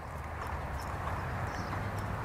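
A horse's hooves trotting during a riding lesson, a steady muffled rhythmic clip-clop over low ambient rumble, with no talk.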